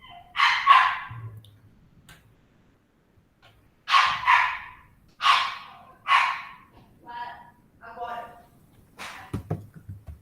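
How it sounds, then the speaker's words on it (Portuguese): A dog barks in short bursts at a home during an online meeting, loud sharp yelps in a few clusters with quiet gaps between them, and some faint background voice. "o cachorro tá latindo"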